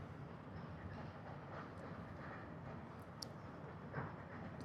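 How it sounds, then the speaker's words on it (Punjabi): A train rumbles steadily past at a distance in West Bengal, a continuous low roar with faint clatter and no voices. "ਉਹ ਆ ਗਈ ਸਾਹਮਣੇ ਟ੍ਰੇਨ"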